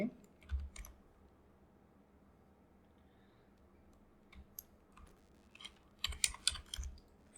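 Keyboard typing at a computer during a Photoshop movie-poster design session: a short burst of clicks early on, quiet stretch, then a denser cluster of keystrokes near the end, fairly faint and close.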